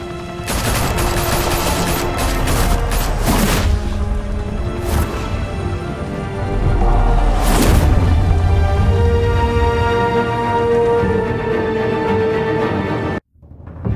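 Gunfire in a Batman video game, loud bursts of automatic weapon fire with sharp cracks and booms ringing out repeatedly over a steady backdrop, ending in a sudden cutoff.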